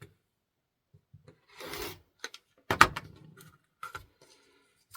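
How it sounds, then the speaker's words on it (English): Rotary cutter trimming the edge of a flying-geese quilt block on a cutting mat, heard as a short crisp slicing rasp, followed by a few soft taps and brushing sounds in an otherwise quiet room. "Now we're going to make that first trim."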